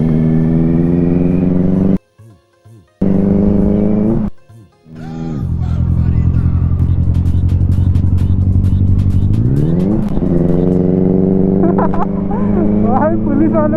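A loud Benelli superbike engine rumbles close by on a city street, cutting out briefly twice, then holds a steady roar and revs sharply upward toward the end. A voice talks over the engine.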